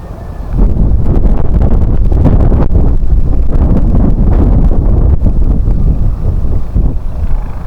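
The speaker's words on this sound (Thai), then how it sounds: "โอ้ลมใช้ได้เลย" Strong wind buffets the microphone outdoors at a waterside fishing spot among water spinach and water hyacinth, producing loud, continuous low rumbling gusts with no speech.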